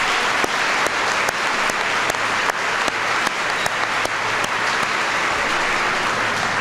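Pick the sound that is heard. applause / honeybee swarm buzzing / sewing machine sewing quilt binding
applause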